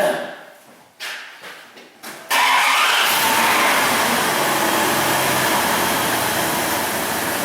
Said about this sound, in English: we're going to go ahead and start the vehicle